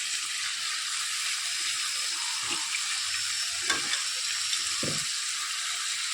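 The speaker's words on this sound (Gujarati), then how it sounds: "થોડાક મસાલા સરસ શેકાઈ ગયા છે તો આપણે સાથે સાથે પાલક પણ નાખી દઈએ." Spinach goes into a pan of roasted spices and fries with a continuous crackling sizzle. A few soft scrapes and thumps of stirring sit near the middle and end.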